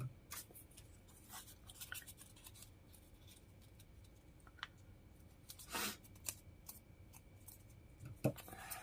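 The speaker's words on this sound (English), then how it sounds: "I'm going to trim off this extra here because the design is not there" Scissors snip through excess paper at a quiet craft table, a few scattered crisp cuts and rustles with one sharper snip near the end, close and faint.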